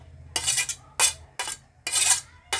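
Grated cauliflower is scraped into a bowl with a spoon, giving four sharp clattering bursts of metal on dish in quick succession, close and with no talk.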